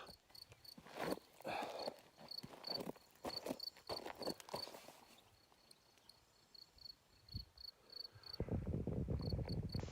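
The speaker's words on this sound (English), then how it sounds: "In the background you can hear the crickets." Crickets chirp in steady, evenly spaced pulses in the background, while intermittent rustling and thumping noises come and go nearby, quietly overall.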